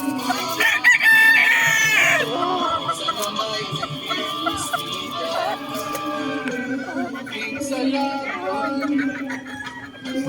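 Hens cluck and a rooster crows loudly nearby in a gamefowl breeding farm, with steady bird chatter and a voice talking over the farmyard noise.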